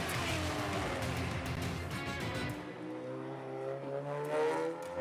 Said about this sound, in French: une balade de 600 km l'attend autour du ring avec une Cupra TCR